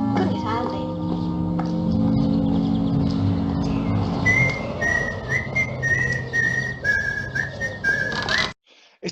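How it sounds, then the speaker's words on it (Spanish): Someone whistles a Disney children's tune, a clear melodic line of sustained notes with short slides, heard over busier background sound with hoof-like clopping and voices early on, before stopping abruptly near the end. "está silbando la música que hemos escuchado, la música infantil de Disney"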